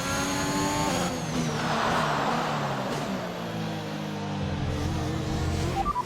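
An F1 car in the F1 2021 racing game accelerates on track, its engine note sweeping up through the gears with loud, steady, close-up whine and a rising pitch, with no talk.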